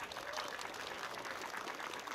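Festival crowd applauding at the opening of the Nordkapp festival, a steady faint wash of clapping that carries on evenly with no voices on top.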